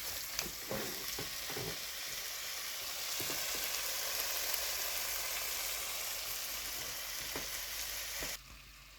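Rabbit meat in spicy village-style masala gravy fries with a steady, loud sizzle while being stirred, with scraping strokes of the spoon scattered through, ending in a sudden drop in volume.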